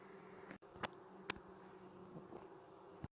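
Honeybees from a hive just relocated out of a wall in Maldon, a steady low buzzing hum with a few brief louder passes near the microphone, no talking.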